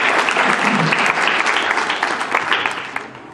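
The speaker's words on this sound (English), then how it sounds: "Please give them a big round of applause." Audience applause at a scholarship ceremony, dense, lively clapping from a sizable crowd that starts strong and gradually thins out toward the end.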